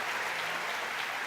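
Congregation applause during a church service, a brief, even wash of clapping at moderate distance that blends into a steady roar.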